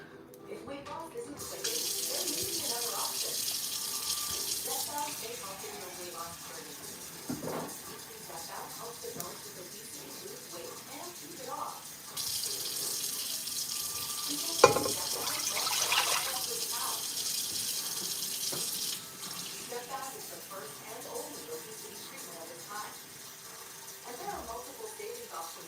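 A kitchen tap runs water steadily into a pot, a measured six cups for Velveeta mac and cheese, a continuous hiss with a few clanks and bumps over it.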